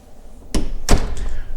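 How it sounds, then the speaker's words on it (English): A door in a modern Las Vegas home opens with a pull, giving two close, solid thunks a moment apart over quiet room tone, then settling. "you pull the door open"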